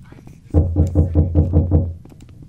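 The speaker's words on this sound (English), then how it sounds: "What are you knocking on?" Knocking in the RecRoom video game, a run of about seven steady, evenly spaced hollow knocks, close and loud, with faint talk around it.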